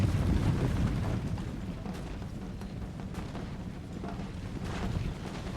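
Massed musket volleys crackle in an Empire: Total War cavalry-heavy 4v4 battle, a dense, continuous rumble of distant gunfire with scattered sharper shots over a low roar, steady throughout.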